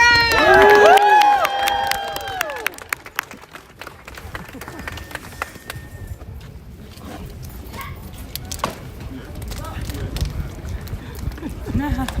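A crowd at a live rally for striking Starbucks baristas cheers and claps, with high rising and falling cheering voices at the start giving way to a steady, dense wash of crowd noise and applause.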